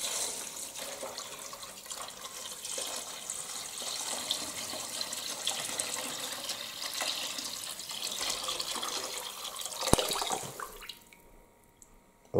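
Water pours steadily into a pot of cabbage being cooked, a continuous splashing, gushing stream heard up close for about ten seconds before it stops and the kitchen falls nearly quiet.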